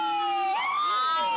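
An ambulance siren wails through New York streets, its tone sweeping between pitches and shifting to a rising, falling yelp partway through, loud and close with no other voices.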